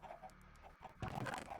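Chickens in a Minecraft-style video game give soft, quiet clucks now and then over a faint background, with no one speaking.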